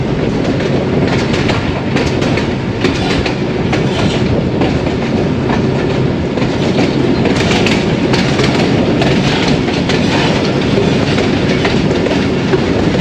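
The 122DN Ravi Express runs along the rails on a branch line toward Warburton, giving a loud, continuous rumble with rhythmic wheel clatter and no talk.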